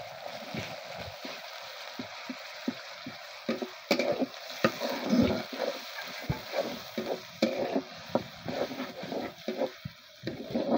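Ground ginger, garlic and onion paste frying in a pan for a khalisha fish curry, with a steady sizzle under repeated stirring and scraping taps, close and fairly loud, no talk.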